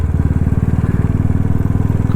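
Close and loud, a Royal Enfield Bullet motorcycle idles with a steady, evenly spaced single-cylinder thump, a deep rhythmic putter that holds throughout with no talking.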